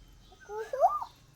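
A voice imitates an Asian koel's call, rising whistled notes with one louder, higher peak, alone in a quiet setting.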